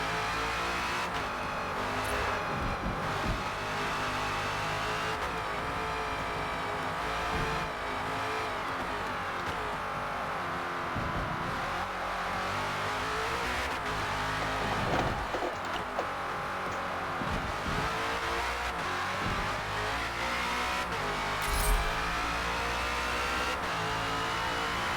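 A Ford Falcon FG X race car in the Forza Motorsport game at Yas Marina drones steadily at high revs, rising and falling through gear changes with occasional tire squeal, continuous and fairly close, without talk.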